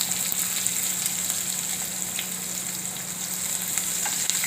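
Onions hiss and crackle in a hot pan for a kantola and onion curry, a dense, steady, loud sizzle that runs unbroken throughout with no voices.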